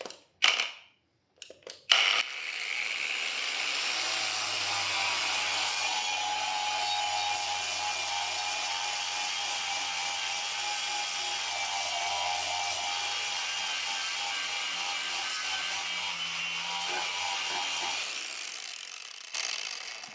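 A Yuansen YSJM-A2 six-speed cordless angle grinder whirs steadily at high speed for about fifteen seconds after a few short bursts, with a low hum underneath, then spins down.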